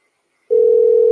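A telephone dial tone starts abruptly after a brief silence while a call is being placed, a loud, steady, unbroken hum that continues to the end.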